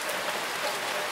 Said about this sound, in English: It's raining today here where the Circle Time classroom is.